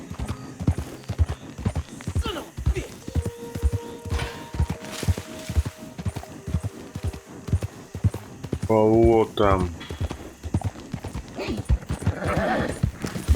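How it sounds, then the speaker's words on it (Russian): A horse's hooves clip-clop steadily in a Western open-world video game, with a short whinny partway through, heard under a man's speech. "Побыстрее лошадка отдохнула, можно скакать"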